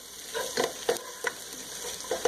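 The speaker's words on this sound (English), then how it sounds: "It's just 3 cloves of minced garlic. I'm going to mix that in there." Three cloves of minced garlic are stirred into onions frying in a pan for French onion soup, with a low sizzle beneath several distinct scraping strokes of the spoon.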